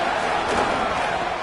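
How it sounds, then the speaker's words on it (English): Stadium crowd roaring on third down in an American football video game, a loud, dense, sustained wash of crowd noise with no break. "Decibels rising as the crowd gets behind this defense on 3rd down."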